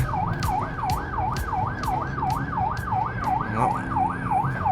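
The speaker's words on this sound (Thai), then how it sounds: "รถพยาบาลในเมืองไทย" An ambulance siren in Thailand wails in a fast, regular rise-and-fall cycle, loud and close, over the low rumble of traffic.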